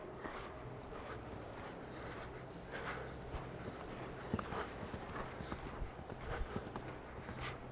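Faint, steady clip-clop of horse hooves at a moderate gait during a riding lesson, heard from a distance over a low background hum.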